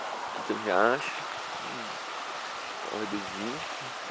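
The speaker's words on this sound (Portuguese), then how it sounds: "Aqui tem um riacho." A small stream in a snowy outdoor spot gives a steady rushing wash of water noise, heard under someone talking in short phrases.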